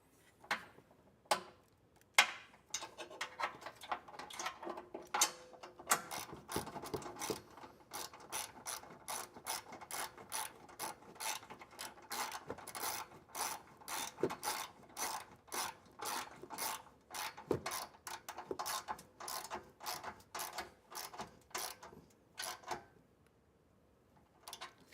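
Ratchet wrench tightening bolts on a Transit off-road front bumper, a close series of sharp clicking bursts, sometimes rapid and sometimes spaced, with short pauses between strokes.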